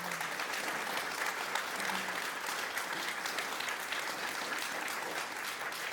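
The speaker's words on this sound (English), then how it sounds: "I know you want to applaud this panel first." A public discussion forum audience applauds a panel with steady, dense clapping that fills the room evenly from start to finish, with no talk over it.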